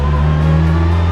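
Volkswagen Polo with a 1.8 TSI engine and sequential automatic gearbox, a loud, steady engine drone heard close by, holding a constant pitch briefly.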